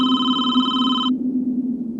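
Landline telephone ringing in a quiet room: a single bright electronic ring burst lasting about a second, then cutting off, over a steady low hum.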